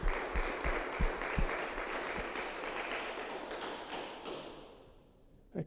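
A crowd applauds, a dense wash of clapping with a few sharper claps up front, steady for several seconds before fading out.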